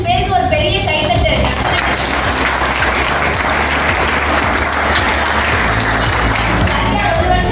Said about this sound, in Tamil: ஸோ அந்த 45 பேருக்கு ஒரு பெரிய கைத்தட்டு.